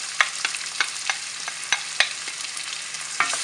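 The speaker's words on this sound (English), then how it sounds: "And now we can add some fine chopped onions, around 2 onions" Finely chopped onions, about two, frying in a pan for a chicken dish, with a soft steady sizzle broken by sharp scraping clicks of stirring at irregular intervals, no voices.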